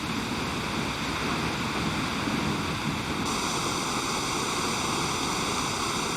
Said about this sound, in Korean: 높이 97m에서 떨어지는 폭포의 물소리가 소복히 쌓인 눈 위로 안개처럼